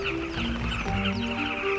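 A large colony of nesting birds on an exposed riverbank in Zambia's Luangwa Valley during the dry season, giving a dense, steady chorus of overlapping calls and chirps that carries on throughout without a pause.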